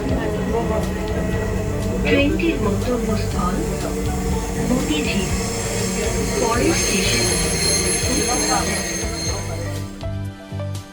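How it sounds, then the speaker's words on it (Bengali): Metro rail train on a crowded festival-day ride, running steadily with loud rumbling wheels, squealing rail noise and rattling carriage sounds throughout, with passengers chattering in the background. "মেট্রো রেল তার গতিতে যাত্রা শুরু করলো"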